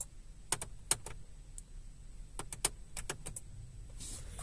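A car's ignition is switched on with the key while an Autowatch Ghost 2 immobiliser is being tested. Several sharp, close clicks and light key jangles sound in irregular bursts over a quiet background.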